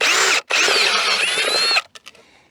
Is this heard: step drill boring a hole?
yes